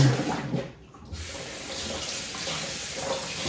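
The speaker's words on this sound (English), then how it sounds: "Rinse these guys off." Raw turkey legs are rinsed under a running kitchen tap, a steady close gush of water that dips briefly as the flow is interrupted, then resumes evenly; no speech.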